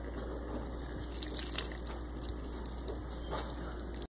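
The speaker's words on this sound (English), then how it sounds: "Finally, you can add the milk." Milk is poured into melted butter in a pot for mac and cheese, a soft continuous liquid trickle and dripping over a steady background hum, close and without talk.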